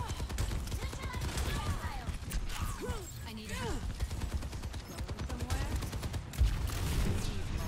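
Rapid video game gunfire from Overwatch 2 crackles in dense bursts through most of the stretch, with several sharper impacts. Players talk over the shooting, which sits at a moderate level under the voices.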